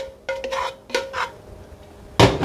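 Drained bow tie pasta tipped into a pan: a few short metallic clatters and scrapes of a utensil against the pan, the last one louder, with no talking.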